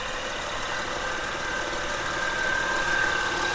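A 3.5-liter VTEC V6 in a 2007 Honda Pilot EX-L runs at a steady idle, with an even, continuous engine drone and a faint high whine heard close up.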